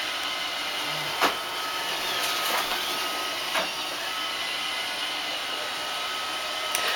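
A Roomba robot vacuum cleaner runs with a steady motor hum and airy whir throughout, punctuated by a few faint bumps and clicks nearby.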